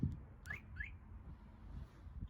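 Two quick rising electronic chirps from a Starline S9 alarm on an Audi RS3 being unlocked, short and distinct, followed by quiet ambient noise with no talking.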